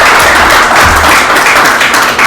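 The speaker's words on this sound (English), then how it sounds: "A round of applause for the county." Audience applause at a county community meeting, a short, loud burst of clapping that fills the whole moment without talk.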